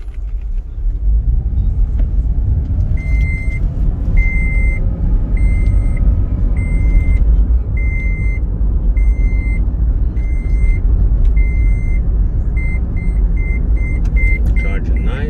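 A 2014 Toyota Prius Three with a solar roof drives along, giving a steady low road and cabin rumble throughout, with a short high beep repeating at a regular pace over it.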